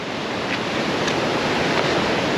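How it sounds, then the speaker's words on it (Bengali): Large ocean waves break at Mirissa beach among rocks, with rain approaching, making a steady, loud, close surf roar with no voices. "ঢেউ এত বড় বড় বিশাল বিশাল ঢেউ"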